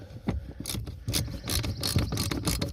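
Bolts on the HVAC blower motor of a 2000 Chevy Tracker are turned out with a ratchet, giving close, rapid clicking in repeated bursts, with scraping and metallic handling noise between them and no talk.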